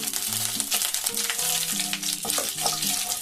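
Cumin seeds and a bay leaf fry in hot oil with a steady, close sizzle and hiss, while tonal background music plays underneath throughout.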